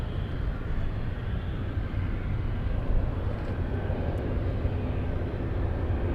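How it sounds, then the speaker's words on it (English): A large aircraft taking off from runway 7 right at Anchorage airport, a loud, sustained low engine roar with a broad rumbling texture that stays steady and close throughout. "All right, that's going to be a nice takeoff."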